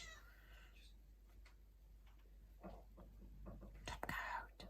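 A cat meows a few times in a quiet room at home, close and moderately loud, with soft whispering and quiet talk around it during a nail-painting session.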